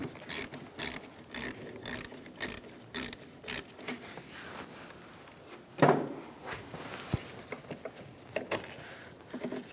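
A ratchet loosens the positive battery terminal nut on a 2010-2016 Cadillac SRX, giving a run of close, evenly spaced clicking bursts, then a louder clunk and scattered handling clatter near the terminal.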